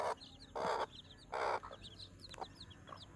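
Several short, loud bursts of hen clucking close by, with fainter chirps from about ten small chicks scattered underneath.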